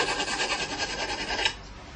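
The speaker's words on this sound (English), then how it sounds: "We use the half round back of this little diamond file." Half-round back of a small diamond file rubbing against a knife edge to remove the burr, a close, steady rasping scrape in quick back-and-forth strokes that fades out near the end.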